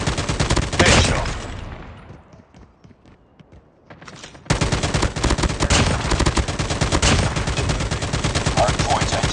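Bursts of rapid gunfire in a Call of Duty match, loud and sustained at first, dropping to quieter scattered shots before heavy automatic fire resumes and continues to the end.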